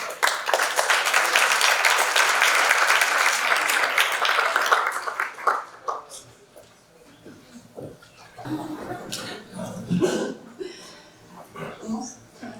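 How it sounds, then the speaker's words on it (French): At a business talk, an audience applauds two speakers, Marie and Florence, with strong sustained clapping that fades out after about five seconds, followed by a quieter stretch of voices and shuffling. "je vous laisse applaudir Marie et Florence"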